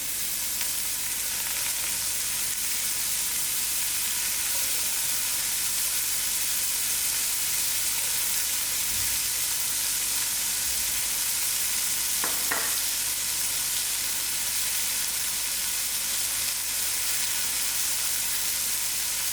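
A cup of Gradra frying in a pan for a hearty, spicy vegetable stew, a loud, steady, dense sizzle and hiss with no talk.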